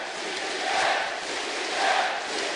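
A large crowd at a League of Legends tournament final cheers and roars in a big venue, a sustained wash of voices that swells twice.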